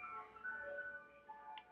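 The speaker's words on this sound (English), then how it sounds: "Why is our ice cream truck just loud as fuck?" Ice cream truck jingle playing outside, heard as a faint, thin chiming melody of sustained tones with soft background noise and a small tick near the end.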